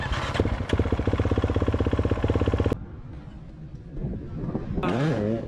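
A motocross dirt bike on a training track at Pont-d'O runs with a loud, rapid, throbbing engine note for a few seconds. It then drops to a quieter distant drone before revving up again near the end.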